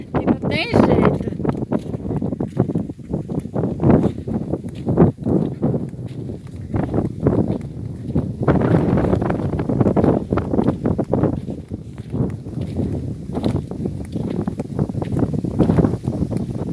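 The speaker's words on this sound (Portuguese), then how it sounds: "E esse vento tá demais." Strong wind buffets the microphone on a rural farm plot with lemon trees, gusty rumbling roars under a person talking throughout.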